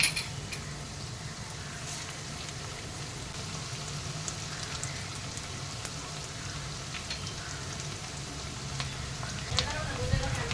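Ginger-garlic paste frying with onions in a pan for a prawn masala, giving a steady, moderately loud sizzle that runs throughout, with faint stirring scrapes and a few brief clicks.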